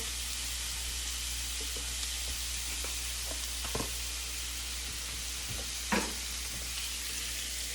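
Scallops sear in a hot pan with a steady, fairly quiet sizzle, broken by a few sharper crackles and one louder pop near the end.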